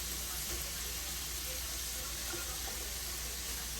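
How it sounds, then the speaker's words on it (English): Onions go into a hot pan with cooked longaniza, producing a steady, loud, even hiss of sizzling that lasts the whole stretch with no breaks. "So we're going to go in with our onions"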